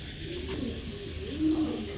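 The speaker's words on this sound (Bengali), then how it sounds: "এখানে পুরানো ব্লাডের 2টা রেসার কবুতর দিলাম" Racing pigeons of old bloodline coo nearby, a soft low rolling coo rising once clearly over a quiet background with faint murmur.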